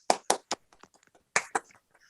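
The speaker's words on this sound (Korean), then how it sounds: "박찬조 박사님을 박수로 모시겠습니다." A handful of sharp, scattered hand claps ring out at a lecture forum to welcome the speaker, five or six distinct slaps in two short clusters with quiet gaps between them, as from a small audience.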